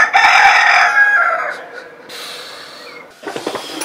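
A rooster crows loudly and close by, one long strained call that tails off, followed by a softer rasping squawk at the end.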